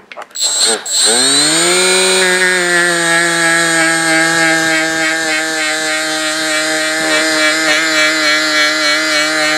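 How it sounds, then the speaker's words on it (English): A rotary buffing tool spins up, then holds a loud, steady whine while polishing scoring on a chainsaw piston, with brief dips in tone as it presses against the metal. "So if you're buffing it and the numbers are disappearing, you're pushing too hard for sure."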